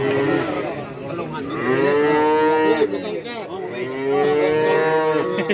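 Cattle at a cow market in Kajen, Pekalongan, Central Java, give long, loud, close moos, one after another with brief gaps. No voices are heard.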